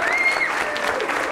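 A children's audience at a magician's show claps in a short continuous patter, mixed with excited high-pitched voices.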